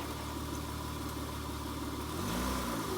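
A 2002 Acura TL-S engine runs steadily in reverse gear, a close continuous idle drone that swells into a brief rise in revs near the end.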